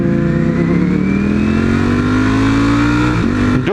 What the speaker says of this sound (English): trashy old classic car